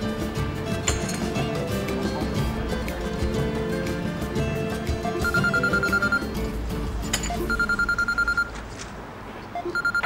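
A telephone rings in repeated electronic bursts over a busy background of clattering and murmuring, the rings sharp and close.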